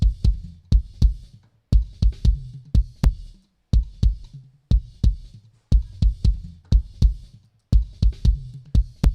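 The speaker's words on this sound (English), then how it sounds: "So that's the bass drum sound." Mixed bass drum from a Logic Pro drum mix, heavily compressed, playing repeated punchy kick patterns in groups with a steady rhythm, close and loud, with no other sounds.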